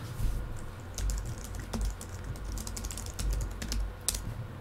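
Quick, close typing on a computer keyboard while entering a task, with light irregular clicks of keys over soft room hum and no speech.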